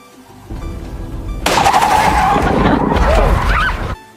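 A car in a film skids after its tire bursts: a loud, sustained tire screech and scraping rush after a brief lower rumble, fading out abruptly at the end.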